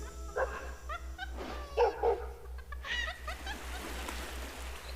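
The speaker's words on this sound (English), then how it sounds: "Fighting, barked Pushkin, right away." A dog barks several times in short bursts, fairly close, with a steady low hum in the background.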